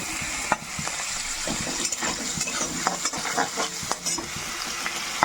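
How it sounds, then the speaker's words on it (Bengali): Chopped garlic sizzles and crackles in a hot pan for a prawn and egg omelette, with close, continuous frying and scattered stirring scrapes and spatters. "এবার দিয়ে দেবো রসুন কুচি"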